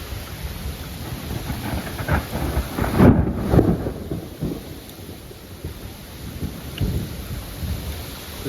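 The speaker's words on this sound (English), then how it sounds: "This is a very strong storm." Severe August thunderstorm with strong winds and intense lightning: steady heavy rain hiss under repeated low thunder rumbles, with a loud close crack and roll near the middle and another rumble toward the end.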